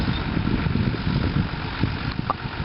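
A farm tractor's engine idles and chugs steadily while it pulls a hay bale, a low rumbling throb with faint knocks, moderately close and continuous.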